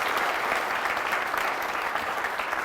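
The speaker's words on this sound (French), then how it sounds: "Applaudissements pour vous une fois de plus." A studio audience applauds a TV entertainment show, a dense, steady wash of clapping heard at moderate loudness without a break from start to finish.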